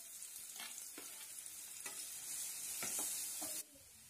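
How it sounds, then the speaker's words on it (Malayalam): Chopped onion sautéing in hot oil in a pan for egg bhurji, a steady sizzle with several distinct scraping stir strokes, close and continuous, no talking. "സവാള ഇട്ട് നന്നായി വഴറ്റിയെടുക്കാം."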